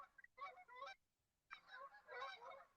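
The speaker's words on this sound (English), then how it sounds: "And there's the Canada geese." Canada geese honking outdoors near a pond, two clusters of repeated nasal honks separated by a short pause, moderately distant and fairly faint.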